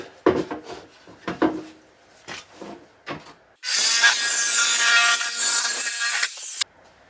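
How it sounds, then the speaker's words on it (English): A jigsaw fitted with a metal blade cutting a Ford Escort MK1 rear lower quarter body panel: a few scraping and clanking handling knocks, then a loud, steady buzzing rasp of the blade for about three seconds before it stops abruptly. "just going to use a jigsaw with a metal blade on it and trim it off"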